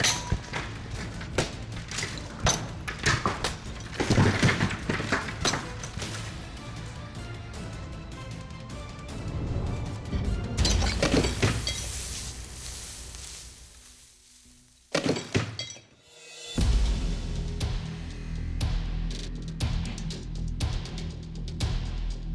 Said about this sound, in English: I'm going to take your Horseman's axes and repeatedly strike into these large blocks of ice to see how well they hold up